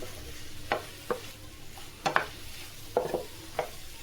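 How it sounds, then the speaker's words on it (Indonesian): A spatula scrapes and clacks against a frying pan as vegetables with chili, turmeric, masala and coriander are stirred, a few distinct knocks spaced irregularly over a soft background. "Nah, ini biar tercampur semua sayurannya"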